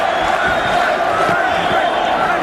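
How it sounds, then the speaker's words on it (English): A boxing arena crowd urges Mike Tyson on during a bout, a dense, steady roar of voices and shouts filling the hall under a commentator's talk. "Now the crowd begins to implore Tyson"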